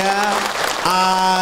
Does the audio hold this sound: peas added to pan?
no